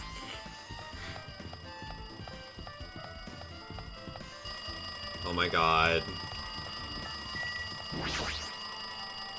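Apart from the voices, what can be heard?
phone ringing in video game Danganronpa 2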